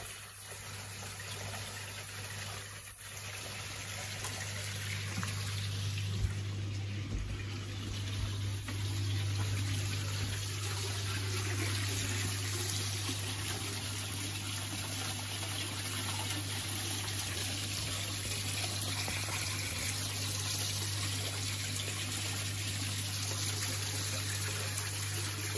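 Water falls continuously from a backyard shower feature into a koi pond, making a soft, steady splashing and trickling wash over a low hum, faint and unbroken with no speech.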